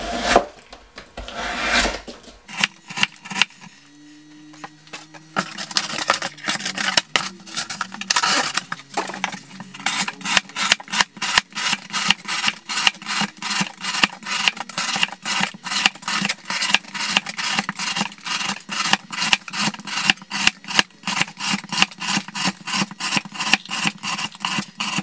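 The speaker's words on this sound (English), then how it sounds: "let's see how many cuts until it doesn't want to cut cardboard" A forged knife of 1095 high-carbon steel and 15N20 Damascus slices repeatedly through cardboard, giving a fast, steady run of loud rasping, scraping cuts close by for most of the stretch, with no talking.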